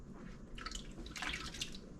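Apples for hard cider are rinsed under running water, giving a steady close splashing and trickling that swells in bursts midway, with drips over a continuous low wash and no talking.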